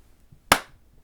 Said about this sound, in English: Do the clap